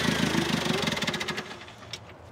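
A telehandler's engine running rough and uneven with a knocking throb, easing from revs back toward idle, loud and close for a couple of seconds.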